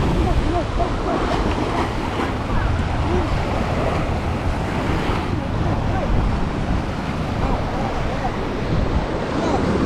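Ocean waves surging and breaking on the shore at Nazaré, Portugal, as a loud, continuous roar heavy with wind buffeting the microphone.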